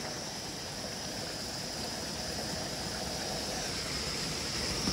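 Steady rushing of flowing water, a continuous broadband wash with no pauses, fairly close and unbroken throughout.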